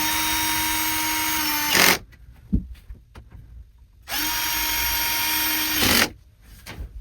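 A power drill drives bolts into a wooden bed frame during assembly, two steady whirring bursts of about two seconds each, close and loud, each ending in a brief strained rise, with quiet knocks and handling between.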